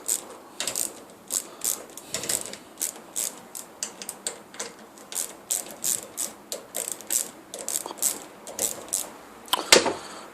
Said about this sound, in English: First thing we do is we slacken the 4 bolts on the top.